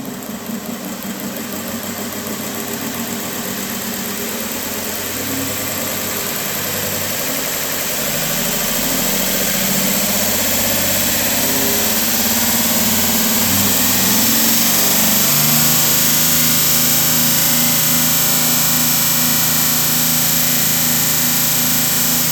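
A Porter Cable 36 by 4 inch belt sander runs at its slowest setting, a steady mechanical motor drone with a low rumbling hum that swells slightly louder partway through and holds continuously, with no talking.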